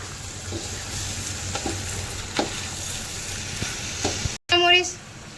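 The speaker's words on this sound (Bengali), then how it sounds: "তারপর এগুলো দিয়ে ভালো করে চালটাকে ভাজতে হবে।" Rice frying with onion paste in a pan for Haji-style biryani, a steady sizzle punctuated by scraping stirs, then a short cut and a brief louder burst at the end.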